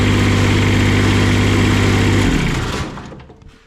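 Diesel roller engine idling too high, around 1500 RPM: a loud, close, steady droning hum that drops off and fades away as it winds down near the end.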